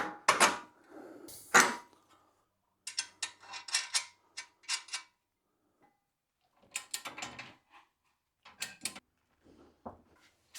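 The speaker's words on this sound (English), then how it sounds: "Can now install the lower bolts using the new one provided by MCA for the top." Ratchet wrench clicking while tightening the lower coilover bolts on a Subaru WRX: short bursts of close, sharp ratcheting separated by pauses of silence, with no talk.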